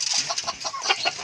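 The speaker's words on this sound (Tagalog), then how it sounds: "magpapakain muna tayong manok" Chickens clucking busily while being fed, a quick run of close, overlapping clucks and short calls.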